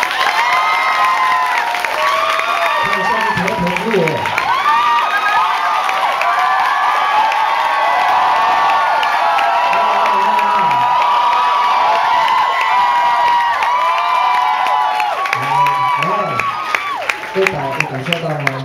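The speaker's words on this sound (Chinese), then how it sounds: "来，你们要给他们掌声吗？" Loud, continuous cheering and applause fill a concert hall during an Amis singer's album concert, dense crowd noise with whoops and shouts throughout, while an amplified voice speaks over it at moments.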